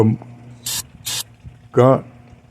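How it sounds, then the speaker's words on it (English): Two short hissing bursts of carburetor cleaner sprayed into the carburetor of a two-stroke Mercury outboard motor, close by, followed by a brief mechanical rattle, with faint background noise between. "Just get a good cleaner, carburetor cleaner, spray inside the carburetor."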